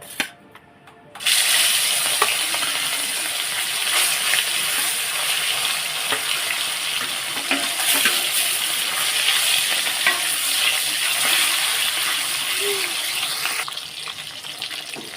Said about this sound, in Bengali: তেলটা গরম হয়ে গেছে মাছগুলো দিয়ে ভেজে নেব